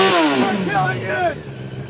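A motorcycle engine revving hard nearby, a loud whining drone that rises and falls in pitch and then drops off, with a voice briefly audible over it.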